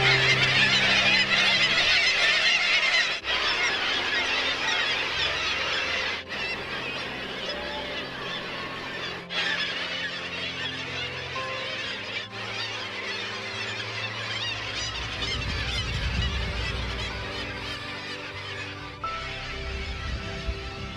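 A dense seabird colony at Gull Island near Homer, Alaska, honks, squawks and squeals without pause for twenty seconds, a loud chorus of countless overlapping calls with a low rumble under it.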